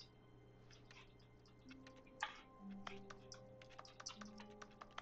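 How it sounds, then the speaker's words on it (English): Keyboard typing serves as the interact sound in the video game The Stanley Parable, a quick irregular run of soft key clicks over a low steady office hum, close and moderately quiet, with no voices. "my interact key is actually him typing"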